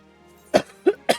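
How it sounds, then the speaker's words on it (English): A person coughs three times in quick succession, sharp close bursts over a quiet background. "God, now he's got me coughing."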